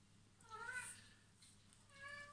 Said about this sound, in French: Là, c'est le chat qui demande à sortir.